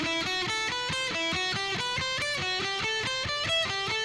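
Slightly distorted electric guitar running a scale pattern exercise in quick, evenly spaced picked notes that step up and down in pitch, close and steady throughout with no speech.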